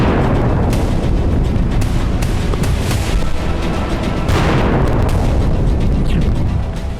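Loud, continuous rumbling blasts and booms from a barrage of rockets striking military posts and a radar station at Kiryat Shmona, dense and sustained with sharp bursts rising out of a heavy roar.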